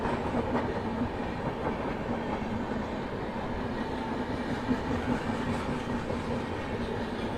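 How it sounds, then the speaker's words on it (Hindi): Valsad-Haridwar express train passing alongside a moving train, a continuous low rumble of wheels and carriages with faint rhythmic rail clatter, steady and moderately loud with no voices. "आगे यहाँ से कोई ट्रेन भी क्रॉस हो रही है, वलसाड हरिद्वार।"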